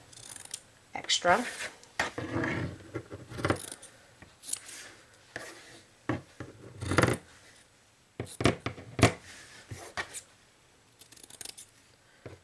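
Scissors snip the corners off cross-stitch fabric stretched in a hoop frame, a run of crisp cuts coming in short bursts with soft rustling handling between them, close and moderately loud, while a person talks over part of it.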